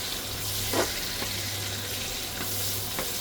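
Garlic and onion sizzle steadily in a pan for pinakbet, a continuous frying hiss with a few soft stirring scrapes, close and moderately loud, with no talking.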